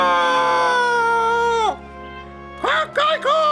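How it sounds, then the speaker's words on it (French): A rooster's crow in a French cartoon, voiced as one long, loud, sustained call that drops off sharply, followed after a pause by a few short, bright crowing bursts. "si j'entends encore un coq crier"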